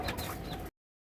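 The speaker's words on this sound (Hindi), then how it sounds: "अब मैं मुर्गियों को बंद करता हूँ, वो अपनी जगह पे आ जाएंगी" Hens clucking briefly as they are driven into their coop, close and fairly loud, cutting off abruptly after under a second.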